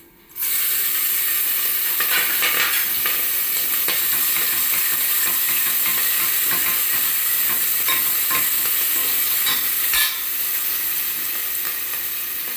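Finely chopped chillies and ginger-garlic paste hit hot oil in a pot for vegetable dal khichdi, bursting into a loud, continuous sizzle with occasional scraping stirs, close and unbroken.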